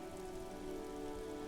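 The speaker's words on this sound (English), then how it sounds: "Rain falls down on the world." Steady rain falling on the city streets of Revachol in Disco Elysium, a soft, even wash of drops with a low background hum, quiet and unbroken.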